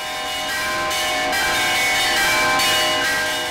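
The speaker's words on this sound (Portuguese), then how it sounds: "A tradição também é preservada pelo seu Cici, que faz questão de ir ao espaço tocar os sinos" Church bells ring in Barão de Cocais, a continuous dense metallic clanging with overlapping tones, loud and steady throughout with no voices.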